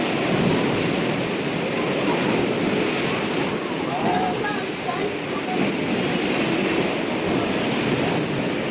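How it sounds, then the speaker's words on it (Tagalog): Strong ocean waves at Boracay crash and roar in a continuous loud wash of noise, close by, with wind and faint voices blended into the surf. "Lakas ang alon."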